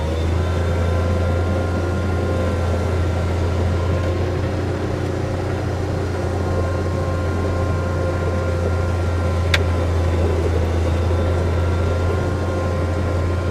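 2018 Bobcat 3650 utility vehicle with hydraulic power steering driving in low range, a steady loud engine drone with a low hum that holds even throughout, no talking.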